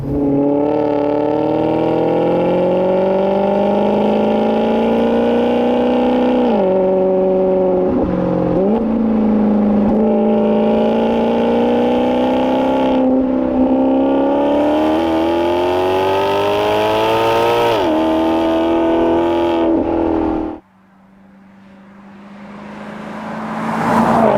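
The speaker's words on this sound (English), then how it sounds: "it has more of that traditional V8 rumbly sound" A loud Maserati V8 exhaust in sport mode revs up and down repeatedly in rising and falling pitch sweeps, then cuts off abruptly to a quieter idle near the end.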